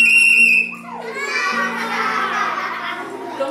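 A whistle blown as hard as possible, a loud steady tone with strong overtones lasting under a second before it cuts off, followed by a bright, noisy wash of sound.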